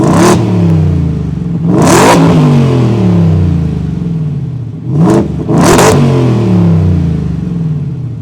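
A 2023 Ford Raptor R's exhaust barks through four sharp revs, each loud blip falling away in a descending burble, sounding close and alone.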